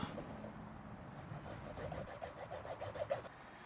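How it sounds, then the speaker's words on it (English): A motorcycle handlebar end, on a Lexmoto Venom, is cut off with quiet rhythmic rasping strokes that grow more distinct toward the end. "So I'm gonna cut this bar end off"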